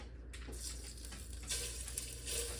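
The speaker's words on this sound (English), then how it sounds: "And I'm going to sear these." Italian sausage and meatballs searing in a pan give a steady, fairly quiet sizzle throughout, with slight rises as pieces shift and no voices.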